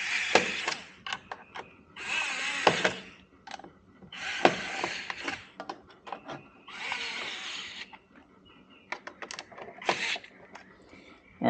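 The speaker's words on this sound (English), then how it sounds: "if you're wondering about my little electric screwdriver, it's a Craftsman." A small Craftsman electric screwdriver drives screws into a Culligan HE water softener housing in repeated whirring bursts of one to two seconds, separated by clicks and handling noises, close and fairly loud.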